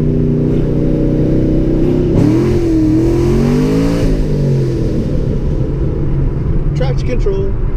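A Chevrolet Camaro engine revs loudly inside a garage, its rising and falling pitch sweeping up and back down before settling into a steady idle rumble; speech is present.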